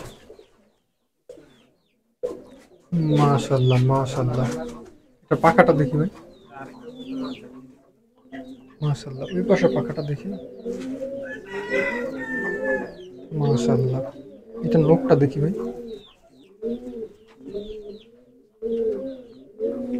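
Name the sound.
M4 generation tournament pigeons cooing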